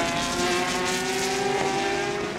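Porsche, Audi and Toyota prototype race cars, including a Toyota hybrid, in the 2015 FIA WEC 6 Hours of Nürburgring, with sustained high-pitched engine wails blending into one steady, loud roar. No voices.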